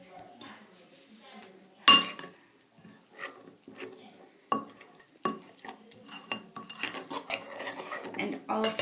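A spoon scrapes and clinks against a bowl in irregular strokes while henna hair dye is mixed with brewed coffee, with a sharp clink near the start and faster stirring toward the end.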